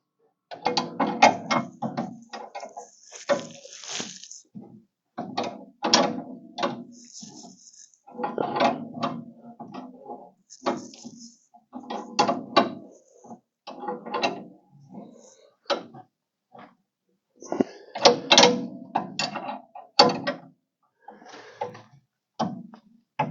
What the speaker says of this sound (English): it's just a lot of cranking until that spring compresses up enough that you can get this out